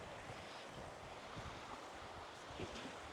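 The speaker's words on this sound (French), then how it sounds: "de ce côté de l'île, il y a plus de vent" Wind blows across the exposed shore of a small islet in New Caledonia, a steady faint rush with low gusty buffeting and soft waves washing in the background, no voices.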